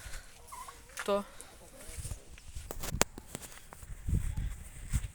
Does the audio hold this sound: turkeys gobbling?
yes